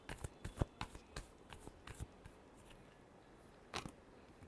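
Tarot cards being shuffled, a quick series of sharp papery riffles and snaps in the first two seconds, then a pause and one more burst near the end, close and fairly quiet.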